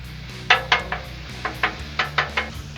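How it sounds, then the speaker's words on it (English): A metal spatula clacks and scrapes against a flat Blackstone griddle top while stirring chorizo, giving about nine sharp, close taps in an uneven rhythm over a low background hum. "Get this chorizo a good stirring up here."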